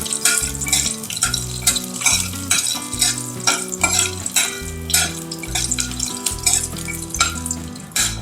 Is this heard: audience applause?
no